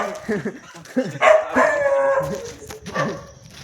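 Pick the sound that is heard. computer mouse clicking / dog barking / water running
dog barking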